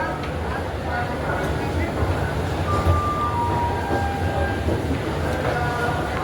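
A train rumbles steadily at a railway station with faint metallic squeals and tones drifting over it, and voices murmur in the background throughout.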